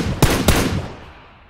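Two sharp gunshots from a video game shooter ring out about a quarter second apart, loud and close, each with a bright crack and a short ringing decay that fades over the following second.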